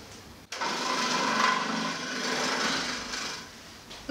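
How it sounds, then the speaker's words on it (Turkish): Carrots being grated by hand in a home kitchen, a steady, close, rasping scrape that runs continuously for several seconds with no talking. "Geriye kalan tek işim şu havuçları rendelemek"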